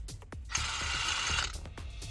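Malfunctioning impact wrench used on power steering rack bolts of a Foxbody Mustang, giving a rough mechanical rattling whir of about a second between irregular clicking knocks, close and fairly loud.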